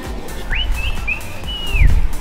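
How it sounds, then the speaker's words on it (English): A person whistles a short sliding melody, rising then holding a high tone before gliding down, faint against quiet room noise. "Oh, you're so good at whistling."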